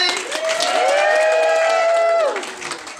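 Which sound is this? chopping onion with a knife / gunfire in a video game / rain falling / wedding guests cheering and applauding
wedding guests cheering and applauding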